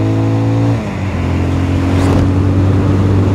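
A Mash 650 Six Hundred classic motorcycle engine idles steadily up close, with a low, even single-cylinder rumble and a brief dip in revs before settling back to a constant throb, with no talk over it.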